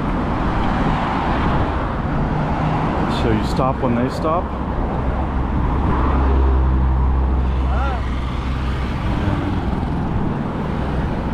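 Road traffic on a major Baghdad thoroughfare, a steady wash of engines and tyres with a low rumbling vehicle passing close, while someone talks over it.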